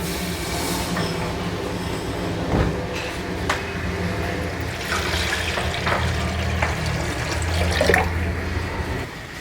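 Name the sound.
water heating to a boil in a pot for macaroni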